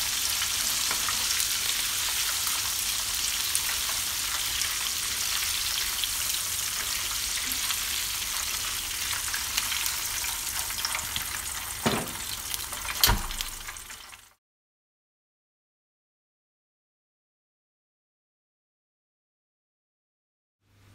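Battered shrimp fry in hot oil, giving a continuous loud sizzle with a few crackles and stirring knocks near the end before it cuts to silence.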